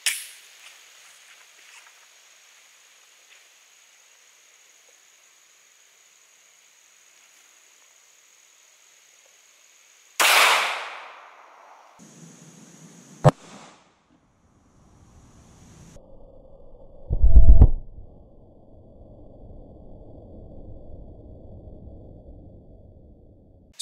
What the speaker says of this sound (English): next we're doing the 135 grain Hornady critical duty